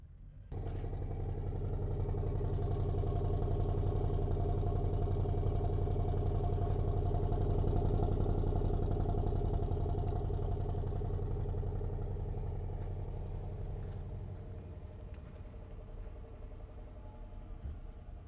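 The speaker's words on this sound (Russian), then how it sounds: "Ну как вам холодный пуск?" Range Rover engine idling steadily after a cold start, a continuous low rumble with light mechanical clatter, close and alone, easing slightly in level toward the end.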